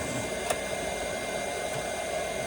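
An induction heater working on a Jeep Wrangler body bolt gives a steady, even electrical hum with a faint high whine, constant throughout and close by, with a brief click near the start.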